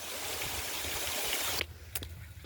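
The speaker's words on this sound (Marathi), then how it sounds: "आताशी सुरुवात केली आपण कपडे धुवायला" Water splashes and sloshes loudly while clothes are washed by hand, a dense watery rush that breaks off into a couple of faint drips and splashes.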